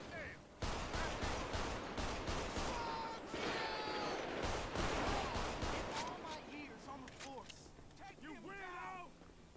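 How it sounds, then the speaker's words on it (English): Bursts of gunfire in the police game LSPDFR, a dense run of rapid shots with louder cracks, with people talking over the shooting. "He decided to shoot at us."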